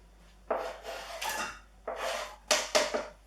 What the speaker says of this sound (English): whack your onions in